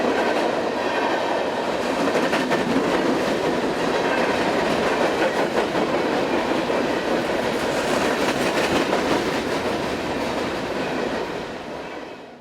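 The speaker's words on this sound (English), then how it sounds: "Returning empties are powered by a pair of AC-44 CW locos." A freight train of returning empty cars hauled by two AC44CW locomotives rolls by in eastern Virginia, a loud continuous roar of clattering wheels and rattling wagons that fades slightly at the end.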